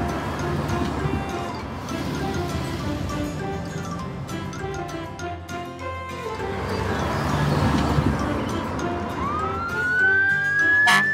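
Emergency vehicles leave a parking garage, a fire truck and a tow truck among them, with a busy wash of vehicle and background noise and a siren rising clearly near the end.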